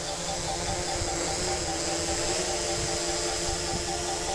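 A small beginner's drone descends slowly to land outdoors, its rotors giving off a steady, even whirring drone at moderate volume that continues throughout with no talking.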